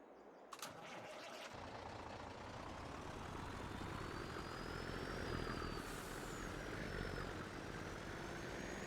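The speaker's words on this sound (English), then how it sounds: "And we'll grab the other truck here." A truck engine in Farming Simulator 22 starts up with a short burst, then runs steadily and loudly at close range, with a brief hiss of air brake release partway through.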